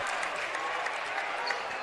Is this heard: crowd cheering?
yes